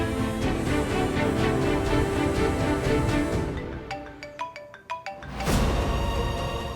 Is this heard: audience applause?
no